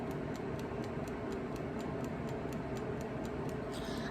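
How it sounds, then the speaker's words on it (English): A hooded hair dryer's timer ticks in a steady, regular rhythm of about three ticks per second, faint over the dryer's constant loud blowing roar, with no voices. "The only thing that's slightly annoying is that this timer ticks as it goes on."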